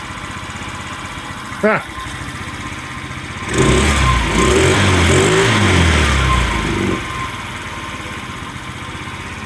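A Chinese scooter's engine idles roughly, then revs up hard for a few seconds and settles back to an uneven idle. A voice briefly murmurs once near the start.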